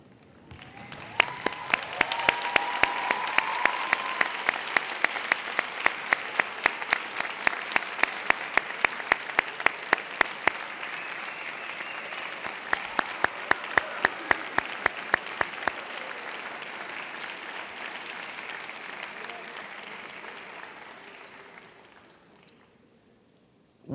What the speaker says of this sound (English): I would now like our graduates to stand, turn, and please applaud your parents.